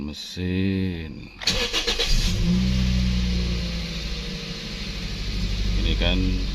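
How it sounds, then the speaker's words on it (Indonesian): A third-generation Toyota Vios Limo, an ex-taxi undergoing radiator cleaning, cranks and starts, then settles into a loud, close, steady idle, with a person speaking briefly before the start and again near the end. "setelah itu hidupkan mesin"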